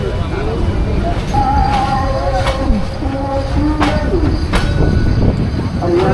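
The Parjatak Express crosses an old bridge in Bangladesh, its carriages rumbling loudly and steadily up close while wheels squeal and screech in repeated bursts, with speech in the carriage mixed into the noise.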